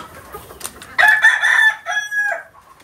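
A hen lets out a loud, drawn-out call lasting over a second, after a few faint clucks and rustles nearby, near a cage where hens sit on eggs in extreme heat.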